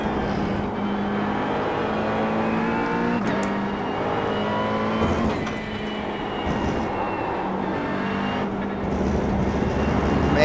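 A McLaren 720S GT3 engine in iRacing at The Bend GT Circuit, held near full throttle with loud, continuous revving and rising and falling pitch through gear changes, with no talking over it.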